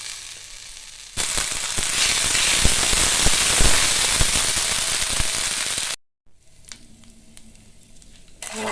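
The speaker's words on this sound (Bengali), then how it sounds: "আদাটা একটু ভাজা ভাজা হয়ে গেছে" Ginger paste sizzles loudly in a hot pan while a potol dolma is made, a dense steady crackle that fills the first several seconds, stops abruptly, then returns softer with a few faint clinks.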